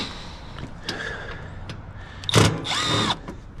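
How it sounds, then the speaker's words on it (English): A small impact driver backs screws out of a mini split unit, up close, in short bursts of whirring with light clicks. A longer, louder burst comes near the end. "Best tool you can get. A little impact."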